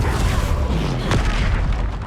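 An Incendio fire spell cast in Hogwarts Legacy gives a dense, booming burst of roaring flame that holds steady for about two seconds, loud and close.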